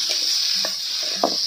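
Bamboo shoots fry lightly with a cooked spice paste for a pork curry, making a brief, soft sizzle with a couple of quick stirring scrapes against the pan.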